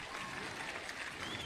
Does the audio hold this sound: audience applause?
yes